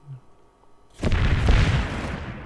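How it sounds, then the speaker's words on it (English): A single heavy bombardment blast from Civilization III lands at once, a loud low boom with a rumbling, crackling tail that fades over the following second and a half. "And he keeps bombarding us."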